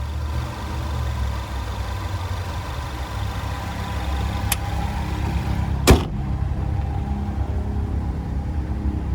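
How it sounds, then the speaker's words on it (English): A 2021 Jeep Cherokee's 2-liter turbocharged four-cylinder idles with a steady low rumble, heard close and continuous, broken by a brief click and a short sharp clunk near the end. "And there's that 2-liter turbocharged 4-cylinder."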